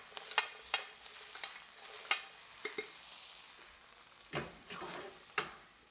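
Root vegetables sizzle in butter in a pan, a soft steady fry broken by sharp, close utensil clacks and stirring scrapes, with no voices.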